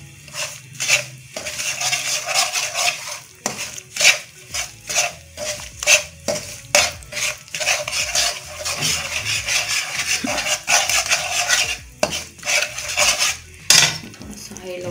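Semolina (suji) being stirred and roasted in a pan for halwa, with repeated close scraping and clinking of a metal spoon against the pan in irregular strokes over a faint dry rustle.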